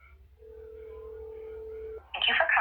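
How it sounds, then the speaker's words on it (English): A telephone call to a childcare center's number connecting: a steady single tone holds for over a second, then cuts off and gives way to a short burst of brighter signal sounds. "listen to where this phone number goes to when you call this childcare center"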